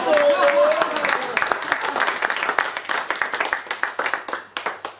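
Crowd at a slam poetry night in France claps, a dense burst that thins into distinct, rhythmic hand claps toward the end, close by, with a voice briefly heard at the start.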